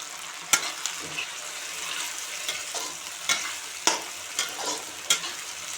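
A spoon stirs potato and cauliflower curry frying with tomatoes in a pan, giving a soft steady sizzle broken by several sharp scraping clacks against the pan at irregular intervals.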